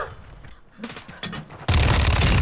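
Dense gunfire in Call of Duty: Modern Warfare II during a 6v6 match, starting as scattered shots and then bursting into a loud, sustained barrage of rapid rounds over the last second.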